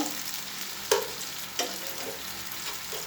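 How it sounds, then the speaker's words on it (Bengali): Ground spices and paste sizzle in a pan as they are stirred and fried for a Bengali dried fish curry with taro stolons, with a steady frying hiss and two or three sharp scraping stir strokes. "এখন আমি এগুলো নাড়াচাড়া করে নিব"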